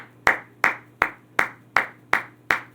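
A single person claps their hands seven times in a steady, evenly spaced rhythm during a spoken prayer or sermon, each clap sharp and close, with nothing else heard.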